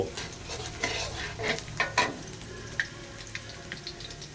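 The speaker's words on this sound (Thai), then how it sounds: "โอ้เจียวกระเทียมให้หอมก่อนนะครับ" Garlic frying in a pan while being stirred for a squid and salted egg stir-fry, with a steady sizzle and scattered scraping clatters of a utensil against the pan, close and with no talk.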